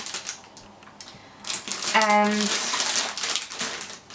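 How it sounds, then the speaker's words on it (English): Small scissors cut open the packaging of Cougar Phontum S pink headphones, giving crinkly plastic snips and rustling at close range, with one brief spoken word partway through. "Actually, I'm gonna open it with my little scissors over here."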